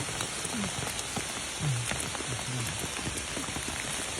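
Steady rain falls in the open during termite mushroom picking, a dense, even patter of drops on the surrounding surfaces, with a few soft low sounds in the background.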